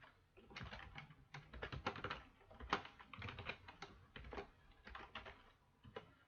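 Steady typing on a computer keyboard fills the stretch, with rapid, close, fairly quiet key clicks and occasional heavier keystrokes while someone enters invoice details.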